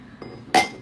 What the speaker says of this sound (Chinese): 第二步好像是要把这个咖啡一定要放冰嘛，加点冰块。